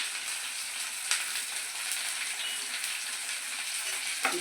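Onions, green chillies and chana dal fry in a pan with a steady, close sizzle that holds evenly throughout, broken by a couple of sharp spatula clicks.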